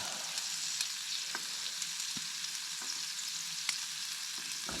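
Carrots sizzle in steak juices over a campfire in subzero Alaskan wilderness, a steady soft frying hiss with occasional faint clicks as they are stirred, no voices.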